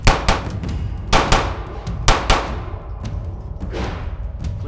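Ruger LCP II pistol firing Remington UMC ammunition in double taps: sharp, loud cracks arrive in quick pairs with short pauses between pairs, and the later shots sound a little softer.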